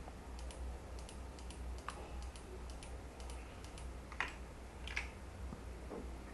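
Soft computer keyboard taps and mouse clicks sound while working in Blender 3D software, scattered light ticks at an irregular pace over a steady low background hum, faint and close.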